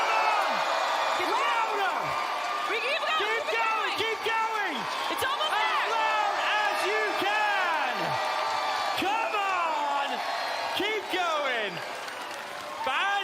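A large live event crowd at a Fortnite-style game show roars and cheers loudly and continuously, with whoops, claps and shouting voices swelling throughout.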